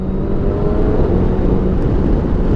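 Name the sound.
BMW K1600 GT motorcycle accelerating in third gear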